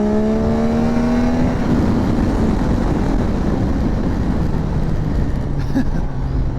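A 2024 Yamaha Tracer 9 GT+ motorcycle engine accelerates hard, its loud rising whine climbing over the first seconds, then giving way to a steady roar and a rush of wind.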